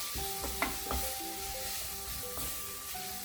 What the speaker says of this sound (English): you just want to stir that in